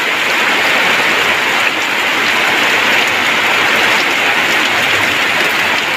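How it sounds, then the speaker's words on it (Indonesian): Heavy rain pours down steadily at an outdoor catfish fishing spot, a dense, continuous hiss of drops striking surfaces close by, with no break and no voices. "Hujannya deras kawan-kawan ya."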